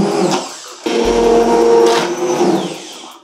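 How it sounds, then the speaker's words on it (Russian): A blender whirs through broccoli cream soup, a close, loud motor hum that starts, briefly dips, then surges again with a steady buzzing drone before fading out. "Это можно было положить в блендер, можно взбить его таким."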